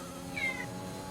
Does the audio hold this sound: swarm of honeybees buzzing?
no